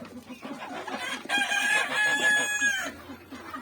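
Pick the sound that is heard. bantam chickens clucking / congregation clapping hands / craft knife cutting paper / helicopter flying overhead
bantam chickens clucking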